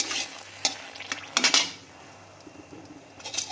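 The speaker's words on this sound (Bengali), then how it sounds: "সর্ষের তেলের মধ্যে দুটো শুকনো লঙ্কা আমি প্রথমে ভেজে নেব" Two dry red chillies frying in mustard oil in a wok, a soft sizzle broken by sharp metal clinks and scrapes of a spatula against the pan, close, with no talk.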